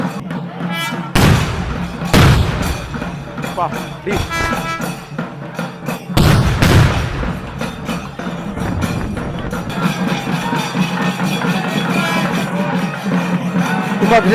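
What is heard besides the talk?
firecrackers bursting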